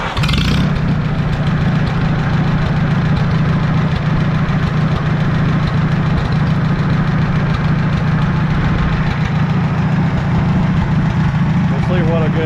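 Farmall tractor engine, warm and running rough after carburetor adjustments, chugs steadily and loudly close by for the whole stretch with an uneven knocking pulse.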